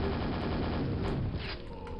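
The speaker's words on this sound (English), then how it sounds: "I got the super nail gun" Super nail gun fire in Quake, a dense continuous rattling stream of rapid shots, loud and close, easing slightly near the end without speech.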